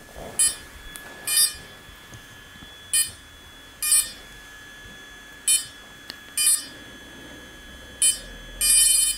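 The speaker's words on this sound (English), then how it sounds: "The drone will now go through its startup process again, and we get the beeping as per before" A Wingsland S6 drone's startup: a series of short, high electronic beeps repeats at irregular intervals over a quiet background hum, ending in a slightly longer double beep.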